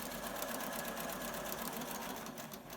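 A sewing machine stitches elastic onto a fabric face mask, running in a fast, steady mechanical whir with a rhythmic needle patter, close and without speech.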